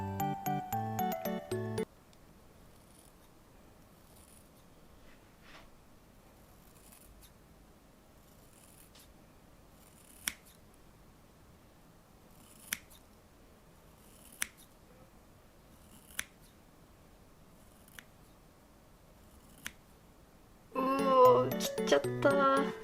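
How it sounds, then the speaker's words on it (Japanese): Sharp scissors snip a Blythe doll's hair: about half a dozen crisp, isolated cuts spaced a couple of seconds apart in a quiet room, with music before and after. "結構ね鋭いハサミ使ってるはずなんですけども、それでもなんか切りづらいです。"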